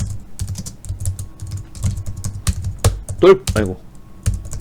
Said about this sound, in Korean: 왜 키보드가 안 써지지?